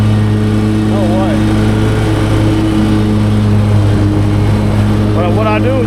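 A mulching lawn mower engine drones steadily while cutting thick grass, a loud continuous hum with strong harmonics from start to finish, with a voice talking over it.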